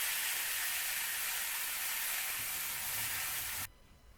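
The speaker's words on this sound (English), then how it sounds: "Do you enjoy the sound of cold raw meat sizzling in a smoking hot" Cold raw meat sizzling hard in a smoking hot pan, a loud continuous broadband crackle and hiss that holds steady for several seconds before cutting off abruptly.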